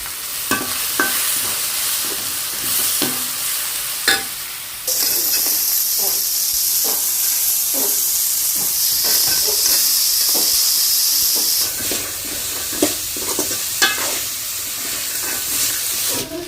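Gravy being sautéed and stirred in a frying pan, a steady sizzle and hiss with repeated scraping clinks of a spoon against the pan, close and continuous.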